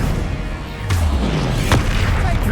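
The Bombarda spell explodes in a wizarding video game with two quick, deep booms less than a second apart, each a sharp burst over a rumbling background.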